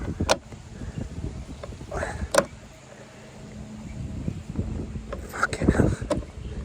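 Gusty outdoor wind buffets the microphone during roof bar fitting on an LDV G10 van, giving low rumbling surges that rise and fall. A few sharp clicks and faint speech sound under it.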